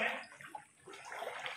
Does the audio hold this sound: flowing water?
yes